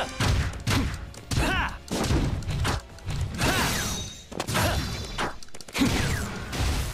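Weapon fire in the action game Kamen Rider Battride War Genesis with the G3-X system: repeated bursts of shots, crashing impacts and whooshes that come in clusters with short gaps between them.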